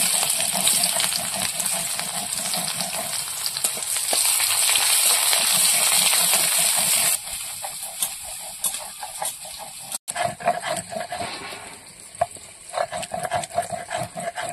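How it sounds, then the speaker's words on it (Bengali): Oil in a wok sizzles steadily with bay leaf, panch phoron and onion, a loud close hiss that drops after a few seconds as stirring and light clinks continue. "কচুর তরকারি বসানোর জন্য কড়াইতে তেল দিয়ে দেবো। তেজপাতা, পাঁচ ফোড়ন, পেঁয়াজ।"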